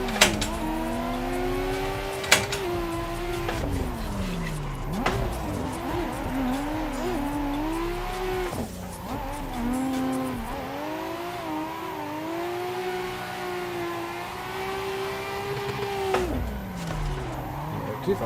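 Drift cars in a racing video game rev their engines hard with rising and falling pitch, mixed with sustained tire squeal through slides, loud and continuous with occasional sharp clicks.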